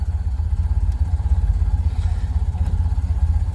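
A Ford Model A engine pulls away in first gear, a steady low rumbling chug with rhythmic pulsing and some mechanical clatter, close and continuous throughout.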